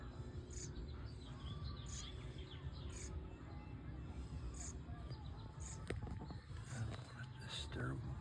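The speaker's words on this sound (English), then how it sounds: "I see some baby birds." Baby house finches chirp faintly from a nest, brief high peeps scattered through steady outdoor background noise with insects.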